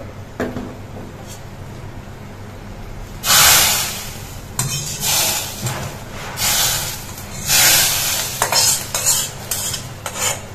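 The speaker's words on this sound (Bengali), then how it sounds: "তো এখন আমি রসুনটা শাকে বাগার দিয়ে দিব।" Fried garlic tempering poured into cooked red amaranth greens with lentils, giving several loud bursts of sizzling mixed with stirring and clinking of a utensil against the pan.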